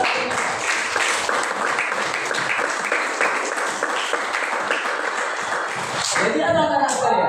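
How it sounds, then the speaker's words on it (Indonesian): A classroom of students bursts into applause during a religious-studies lesson, a dense, even clatter of clapping hands for about six seconds with voices mixed in, before it cuts off and a teacher resumes speaking. "apresiasi, tepuk tangan saudara"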